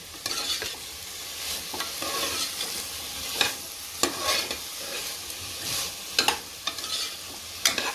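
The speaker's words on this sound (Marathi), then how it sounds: "एक मिनटं आपण तेलावरती भाजी परत" Mixed vegetables sautéed in hot oil for a pulao, a steady close sizzle broken by scraping strokes of a spoon stirring the pan every second or so.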